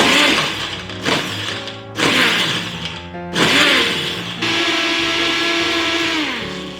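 An electric blender crushes about five ice cubes in short bursts, a loud rough grinding and rattling in several pulses before settling into a steadier, smoother whir.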